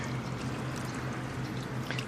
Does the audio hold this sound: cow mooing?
no